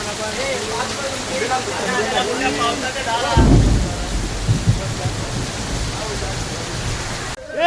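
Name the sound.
heavy rain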